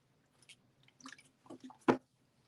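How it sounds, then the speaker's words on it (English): Someone takes a drink of water: a few faint sips and wet mouth sounds, then one louder gulp, close and quiet, with no talking. "Actually, I need a drink of water."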